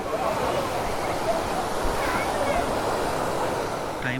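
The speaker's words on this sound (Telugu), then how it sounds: "ఇది వాటర్ ఫాల్" A steady, loud rush of water at a waterfall in Maredimilli, Eastern Ghats, Andhra Pradesh, roars without pause, a dense broadband wash that stays even throughout.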